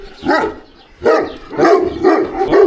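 Very large dogs bark loudly and close by in Azerbaijan, four deep, heavy barks spaced about half a second apart, with no other sound in between.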